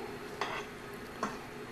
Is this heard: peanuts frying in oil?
yes